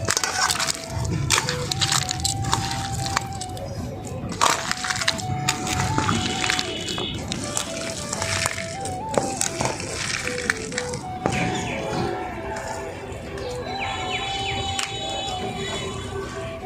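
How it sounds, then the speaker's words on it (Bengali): Peeled sweet potatoes mashed by hand in a bowl, a steady close squishing and pressing under continuous background clatter and noise. "আলুগুলো এখন মেখে নিব।"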